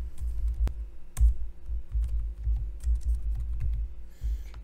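Computer keyboard being typed on, a run of soft close key taps in uneven bursts with a couple of sharper clicks, no talking.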